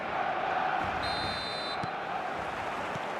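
Stadium crowd noise from the eFootball video game, a steady, dense roar of a large crowd holding at an even level throughout, with a brief electronic tone partway through.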